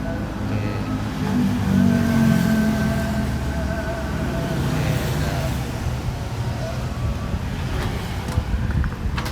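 A Suzuki Karimun car engine held at around 2500 RPM after a battery replacement, a steady loud hum with wind noise and a brief swell early on, while a person talks nearby.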